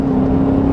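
Short, loud burst of a 2016 Dodge Charger R/T engine held near red line, a steady droning roar with a strong constant tone and no voices.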